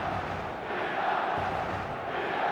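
A dense match day crowd of football fans roars and chants in a steady, loud, continuous wash of voices, with no single speaker standing out.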